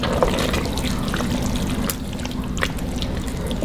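Seafood stock poured from a small mason jar into a pot of shrimp creole, a steady continuous liquid pour and trickle, close and moderately loud, with no talking.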